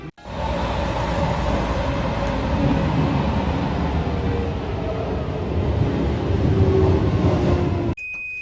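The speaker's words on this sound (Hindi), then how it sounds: "तभी एक और मेट्रो आती है" A metro train pulls into a station with a loud, continuous rumble and rolling roar that holds steady for several seconds before cutting off abruptly near the end.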